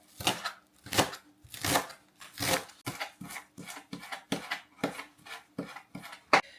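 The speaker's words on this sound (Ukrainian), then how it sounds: "буду нарізати тут у мене зелень цибулі, зелень часнику та зелень петрушки" A knife chops green onion, garlic greens and parsley on a board in a steady series of crisp, close knocks, about two per second, with no other sound around them.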